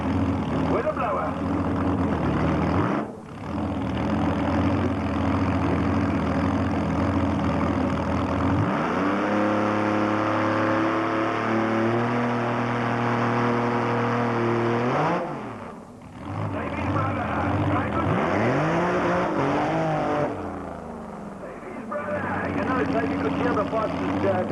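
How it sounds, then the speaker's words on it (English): Supercharged V6 street-legal car revving at a 1997 Tarlton race event, a loud continuous engine roar rising and falling in pitch through several throttle blips, close by, with an announcer talking over it. "V6 with a blower."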